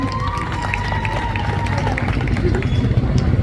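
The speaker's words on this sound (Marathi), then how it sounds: "साठी जोरदार टाळ्यांचा आवाज द्या" An audience at a Home Minister contest event in Sangli claps in a steady burst of applause and crowd noise, with a voice talking over the clapping.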